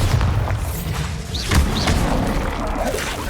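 Explosive spell blasts from the Hogwarts Legacy video game, with heavy booming impacts and crackling bursts layered over a continuous rumbling battle din. Short whooshing streaks cut through, and no one speaks.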